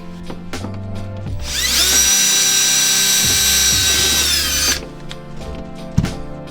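A power drill bores a hole in the interior trim of a Nissan 350Z, a loud, steady high whine held for about three seconds close by, framed by softer handling sounds and a sharp knock near the end.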